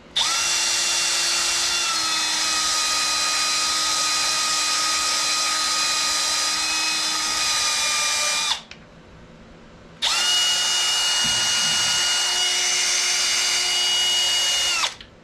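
A high-speed rotary power tool whines steadily while rounding and deburring cut tattoo machine springs, running loud for about eight seconds, pausing briefly, then running again with a similar steady pitch.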